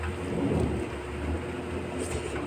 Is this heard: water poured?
no